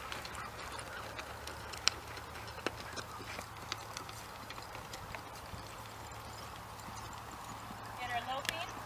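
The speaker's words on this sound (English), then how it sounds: "So I'm going to lope her around and explain that while I lope her" A horse loping in an arena, her hooves beating a steady rhythmic clip-clop at moderate distance, with a rider talking over the hoofbeats and a low continuous hum underneath.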